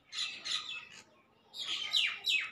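A small pet bird chirps in two short bursts of bright, rapid tweets separated by a brief pause, close and fairly soft, with no voices.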